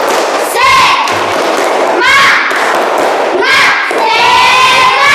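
A classroom of pupils performs a rhythmic spirit clap, loud thumping claps in repeated patterned bursts alternating with shouted children's voices.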